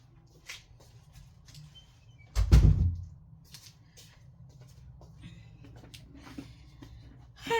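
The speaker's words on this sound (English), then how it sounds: "So let me close the door." One dull thud of a door shutting stands out amid quiet shuffling and faint scraping noises in a room.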